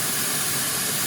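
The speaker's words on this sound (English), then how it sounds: "We got it sizzling." Beef stock hits a hot pan to deglaze it, producing a loud, steady sizzling hiss that fills the whole short moment without any talk.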